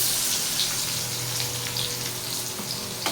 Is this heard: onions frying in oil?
yes